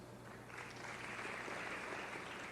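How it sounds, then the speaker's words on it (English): Seated delegates at a chapter congress applaud from across the hall, a soft, fairly distant patter of clapping that swells a little after the start and stays steady. "Could I have all the seated delegates who have experience being a delegate give a round of applause?"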